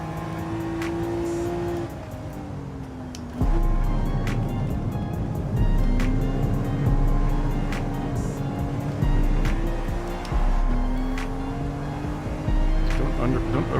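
BMW M2 Competition engine in Gran Turismo 7, a steady mid-pitched drone that shifts pitch with gear changes under sharp clicks and broadband road or tyre noise, with a voice talking over it.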